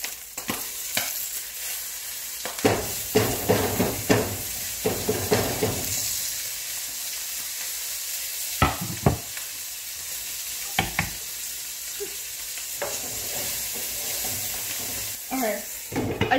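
Ground meat browning in a pan for chili, with a steady loud sizzle and repeated scraping, clattering stirs from a spoon throughout; a voice speaks briefly in the background.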